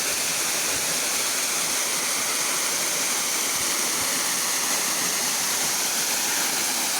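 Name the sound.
Pinganón de Caideru waterfall in Asturias, water falling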